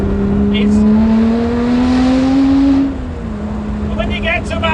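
A Lotus Exige 430 Cup Type 49 revs hard nearby, its engine note climbing steadily for about three seconds before the throttle is lifted and the note falls back to a lower drone.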